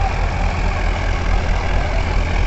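A Mahindra 575 tractor engine runs steadily at a field tiller demonstration, a loud continuous low diesel throb with no pauses or changes in pace.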